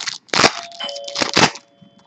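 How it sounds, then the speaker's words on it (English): A doorbell chimes indoors in a couple of clear, ringing tones that sound close and fairly loud and trail off into quiet. "That's the doorbell."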